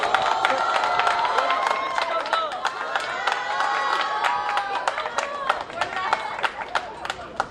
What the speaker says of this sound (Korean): 멤버들 박수 쳐주세요, 박수.